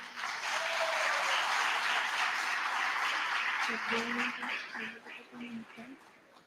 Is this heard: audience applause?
yes